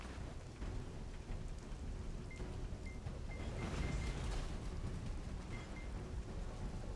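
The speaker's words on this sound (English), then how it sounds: "Uh-oh, boys, it's raining." Steady rain with low rumbling thunder in a stormy scene of an online role-playing game, a continuous wash of patter filling the whole stretch at moderate loudness, with faint tonal game chimes above it.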